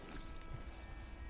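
Horse hooves clip-clop in Red Dead Redemption 2, a quiet irregular patter of steps over a low hiss of ambient game sound.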